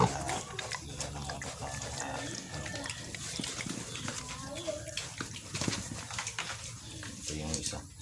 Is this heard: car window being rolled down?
no